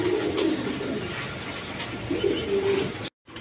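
A pair of German Seal pigeons coo softly and repeatedly, with low rolling calls rising and falling close by over a steady background hiss.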